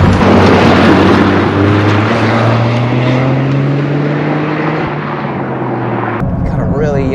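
2023 Toyota GR Corolla Morizo accelerating flat out in third gear, a loud close engine roar rising steadily in pitch before a sudden drop, with a voice briefly heard at the end.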